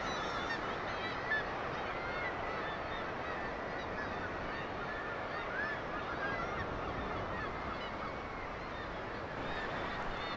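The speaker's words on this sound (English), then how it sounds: "The seagulls are back." Seagulls call faintly over the cliffs at Arbroath, their thin cries scattered above a constant wash of stormy wind and sea noise.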